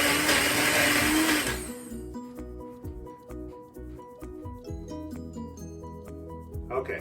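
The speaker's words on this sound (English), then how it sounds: "We're going to blend it until it's completely smooth" A countertop blender roars loudly for about two seconds, whirring smoky hot sauce until smooth, then cuts off and leaves clinks and soft kitchen handling sounds.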